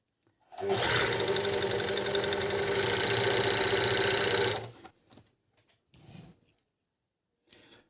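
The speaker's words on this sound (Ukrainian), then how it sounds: "це чотирьохниточний оверлок. Він частково розібраний. Я його налаштував, зробив, налаштував. Ось хочу показати, як він працює." A partly disassembled, freshly adjusted Prima four-thread overlock runs in a loud, rapid mechanical whir for about four seconds, then stops, leaving a few faint clicks and knocks.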